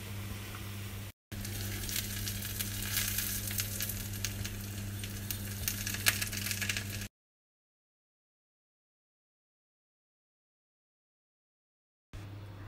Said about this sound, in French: Donc j'ai mis à cuire les kunefeh